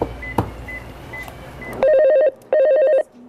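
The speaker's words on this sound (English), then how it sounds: "As the phone inevitably rings" A telephone rings in an animal emergency clinic, loud electronic trilling bursts in two long pulses, preceded by fainter tones and clatter in the room.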